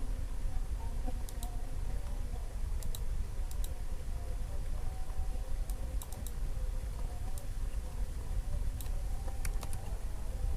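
Steady clicking of typing on a computer keyboard, with irregular keystroke bursts over a constant low background hum, recorded close and fairly quiet.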